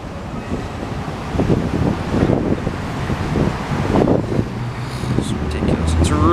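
Wind buffeting a microphone outdoors downtown, low rumbling gusts surging and easing throughout, with traffic-like noise and brief voices mixed in near the end.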